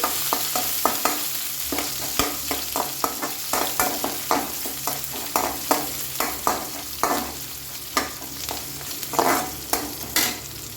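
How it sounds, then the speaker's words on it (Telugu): Finely chopped green chilli and ginger frying in a pan for upma, a constant close sizzle with regular stirring scrapes of a spoon repeating about every half second. "పచ్చిమిర్చి, కొద్దిగా అల్లం సన్నగా కట్ చేసుకుని వేసుకుంటున్నాను అనమాట. కొంచెం బాగా ఫ్రై అవ్వాలి."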